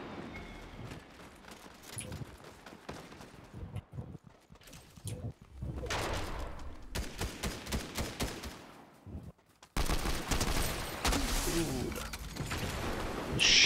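Video game gunfire comes in rapid automatic bursts and scattered single shots, loud and close, with gaps of quieter ambience and occasional voices talking over the action.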